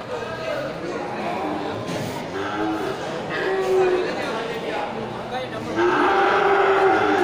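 Cattle on an Indonesian livestock market, Limousin and Simmental crossbreeds, give low moos amid a steady crowd murmur, with people talking nearby throughout.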